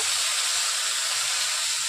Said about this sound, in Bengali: এরপর এখন কড়াইয়ের মধ্যে আলু দিয়ে দিচ্ছি আলুগুলোকে ভেজে নেব